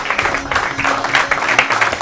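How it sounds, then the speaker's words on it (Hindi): Applause from a studio audience at an Urdu quiz programme, a steady patter of clapping that runs for about two seconds at moderate loudness, with faint background murmur. "ताली बजाइए भाई।"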